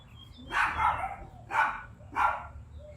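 Dogs bark nearby in three loud, sharp barks spaced about a second apart, with a quiet low background hum between them.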